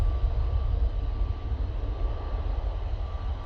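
An Emirates or Qatar airliner landing at Manchester Airport, a steady deep engine roar heard at a distance, even and continuous with no voices over it.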